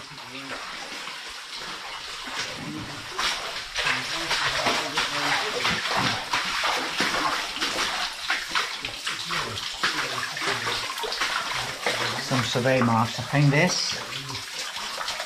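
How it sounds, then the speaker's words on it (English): Water issues through a stone arch in the level of an old 1800s lead mine in the Northern Pennines, a steady close splashing flow that runs throughout while someone talks over it. "quite a lot of water issuing through the actual stone arch"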